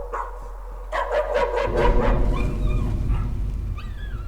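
Dogs bark in the Layers of Fear horror game, a quick run of close barks and yips over a low, steady rumble, followed by softer whimpering tones.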